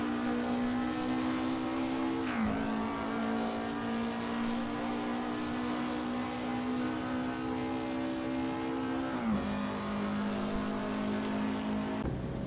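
An Alfa Romeo 33 Stradale, released in 1960 with 150 brake horsepower, running on a racing circuit in Assetto Corsa: a steady, loud engine drone that dips briefly at two gear changes, with no talk.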